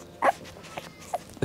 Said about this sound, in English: listen to these puppies